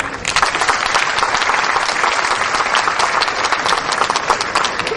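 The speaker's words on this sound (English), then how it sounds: "resounding applause for them." A large audience at a school event in Dwarka gives sustained, dense applause, many hands clapping steadily and loudly throughout, with no talk over it.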